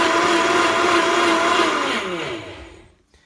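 A reconditioned Vitamix S50 blender runs loud and steady with a whining motor, its pitch sliding downward as it spins down and stops near the end.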